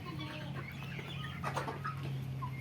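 Tiger breed chickens cluck near and fairly steady over a low constant hum, a few short calls rising in the middle, with no talk.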